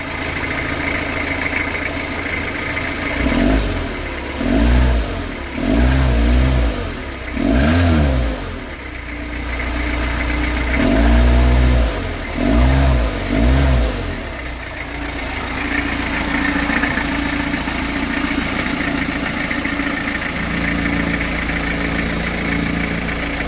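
A 100-year-old truck engine primed with WD40 and lighter fluid coughs through several rough bursts of firing and sputtering, loud and close, before settling into an uneven idle-like rumble.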